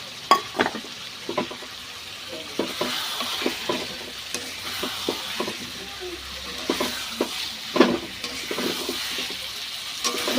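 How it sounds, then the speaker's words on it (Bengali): Boiled potatoes, fried egg and peas are stir-fried in a pan: steady sizzling with repeated scraping and stirring strokes of a spatula, close and moderately loud, with no speech. "এগুলো এখন কষবো।"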